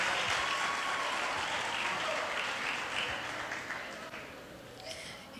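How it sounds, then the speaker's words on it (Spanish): A studio audience at a televised talent competition gives a strong round of applause as performers leave the stage; the dense clapping starts loud and gradually fades toward the end. "fuerte el aplauso para ellos"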